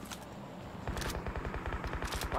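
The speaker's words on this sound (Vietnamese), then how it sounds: "Bên kia vẫn đang còn tiếng súng QBZ nữa." Automatic QBZ rifle gunfire in the mobile game PUBG Mobile: rapid bursts of shots, a short volley and then a longer sustained burst, fairly close and loud, with no speech.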